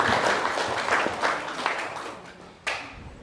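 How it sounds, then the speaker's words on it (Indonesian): Audience applause at a motivational seminar, a dense wash of many hands clapping that thins toward the end before a short fresh burst; a voice is faintly present underneath. "Yes, tepuk tangan"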